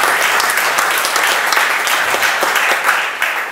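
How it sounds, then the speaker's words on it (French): Dense, steady applause from an association's general assembly audience welcoming its new secretary, many hands clapping together loudly and continuously throughout. "Merci de l'applaudir."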